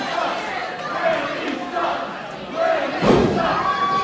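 Wrestling arena crowd during a Remi Wilkins vs Trevor Court match, a dense roar of shouting and chatter that swells near the end with a thud or two.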